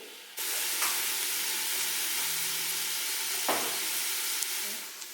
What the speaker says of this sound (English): Saute your mirepoix until your onions look like that, not like that.